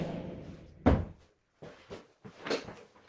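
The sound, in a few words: door being shut on a windy day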